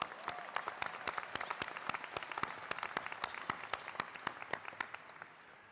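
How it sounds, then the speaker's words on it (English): Steady applause from a large crowd at an RMIT University graduation ceremony in Marvel Stadium, with sharp individual claps standing out over a dense wash of clapping that carries on for several seconds and then thins toward the end. "round of applause"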